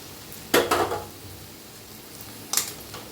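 Okra (bhindi) being stirred with spice masala in a pan, heard as two short bursts of clattering spoon-on-pan scraping about two seconds apart, with a faint sizzle in between and no talking.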